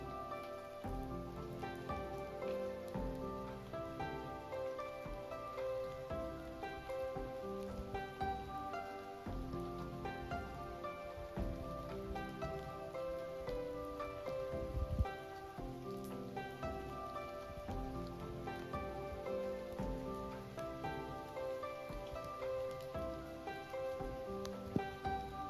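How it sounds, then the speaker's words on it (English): Rain falls on a lake as a dense, even patter of close drops that runs on steadily at a soft level, with no voices. "It's raining, and being here"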